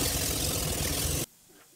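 Small air compressor engine running loud and steady at a rammed earth building site, then cutting off abruptly after about a second, leaving quiet background.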